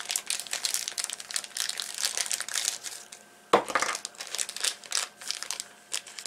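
Scissors cut figure pieces out of a plastic bag, giving close crinkling and rustling of thin plastic with one sharp snapping crunch midway.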